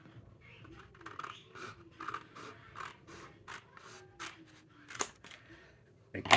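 Scissors snip repeatedly through Christmas wrapping paper cut to card-blank size, a series of short crisp cuts in uneven rhythm, close and fairly quiet, ending with a louder rustle of paper.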